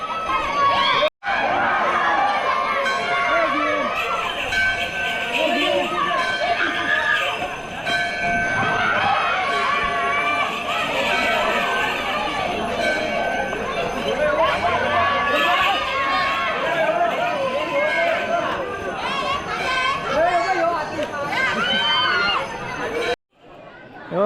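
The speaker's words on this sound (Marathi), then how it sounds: "मुलं बघा भरपूर मुलं चिडवत आहेत" A large crowd of children shouts, laughs and chatters loudly while teasing and tugging the ankle bells of the Sankasur figure at a Shimga festival in a village, with a faint jingle of bells mixed into the noisy, continuous din.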